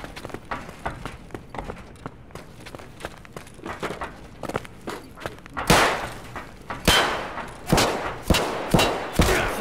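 Bursts of suppressing gunfire in the shooter game Escape from Tarkov, a run of sharp cracks that start faint among footsteps and turn loud and close in the second half, separated by short gaps.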